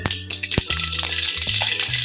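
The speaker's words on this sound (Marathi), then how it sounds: "तेल छान कडक होऊ द्यायचं आणि गरम झाल्यानंतर त्यामध्ये मोहरी, जिरं," Mustard seeds and cumin crackle in hot oil in a kadhai, a brief loud burst of popping and sizzling with sharp spits over a steady fry, a faint tonal hum running beneath.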